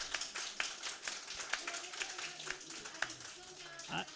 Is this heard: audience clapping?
yes